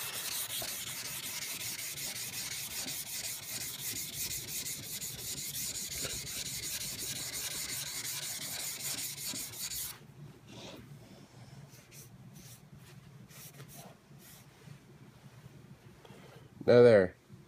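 Steel chisel back being ground flat on a sharpening stone, a steady continuous rasping scrape for about ten seconds that then stops, leaving faint scattered rubs and a brief louder knock near the end.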